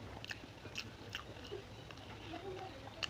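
Someone chewing a mouthful of pork curry with potatoes and hot rice, soft wet bites and crunches close to the mic, faint and irregular over low background noise.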